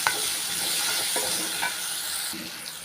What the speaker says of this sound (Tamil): வெங்காயம் வந்து நல்லா வதங்கிக்கிறட்டும்